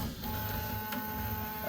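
A Prusa XL 3D printer runs with steady motor whine and tonal stepper hum, faint and continuous, with a brief sharp click midway and no talking.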